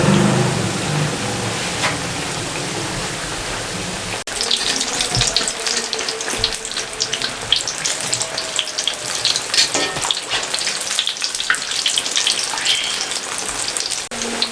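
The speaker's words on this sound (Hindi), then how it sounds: "घी ऊपर से ऐसे करेंगे तो इनके ऊपर बड़े खूबसूरत और प्यारे बबल बनेंगे" Chicken macaroni samosas frying in hot ghee give a steady, close sizzle and crackle with a bubbling, watery hiss that grows denser after the first few seconds, with no talk over it.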